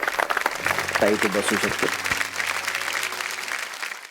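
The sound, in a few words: audience applause on TV show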